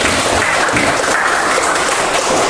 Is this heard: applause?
yes